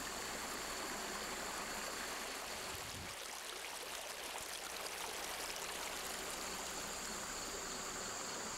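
A stream flows past a restored stream bank along a river, a steady, full broadband rush of moving water with no pauses and no voices.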